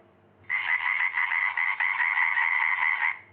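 Frog croaking in a continuous raspy, buzzing trill lasting about two and a half seconds, fairly loud and close against a quiet background.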